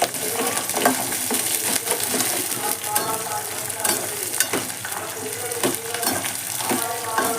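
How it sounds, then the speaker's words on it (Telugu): Mustard seeds, cumin, green chillies and peanuts frying in oil for mango pulihora, a close, busy crackle with popping bursts and rattling stirs, dense and continuous. "ఇకపోతే ఆవాలు, జీలకర్ర, అదేవిధంగా మనకి పచ్చిమిర్చి ఇన్ని వేసి కలుపుకోవడమే."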